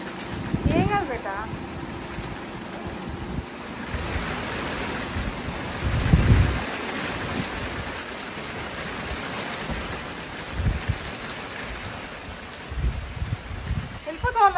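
Steady rain falls on a farm amid wind, with a low roll of thunder near the middle and occasional voices in the background.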